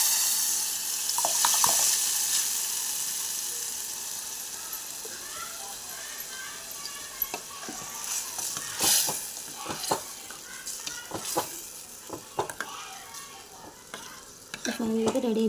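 Mustard seeds, cumin and curry leaves crackle and fry in hot oil for a dal tempering, a steady sizzle broken by sharp pops and bursts. Scattered clinks and stirring noises come through, with a louder flurry near the end.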